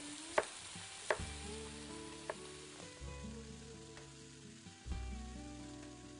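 Flank steak browning in a pan gives a low, steady sizzle, broken by a few sharp knocks and clatters from the pan or utensils.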